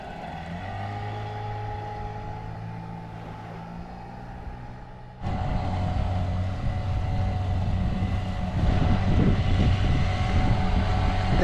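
Dinghy outboard motor shifted into forward gear, a steady droning engine hum that abruptly grows louder and rougher midway as the boat moves off, with wind buffeting the microphone and no voices.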